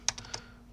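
A few quick keystrokes on a computer keyboard while entering a gzip command, crisp and close, about four clicks in under half a second, then quiet.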